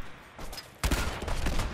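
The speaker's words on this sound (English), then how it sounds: "here's some more unlucky raiders that happen to cross my path and start shooting at me" Raiders fire guns at the player in the video game Fallout 4; after a quiet start, a dense burst of rapid gunfire erupts and continues loudly to the end.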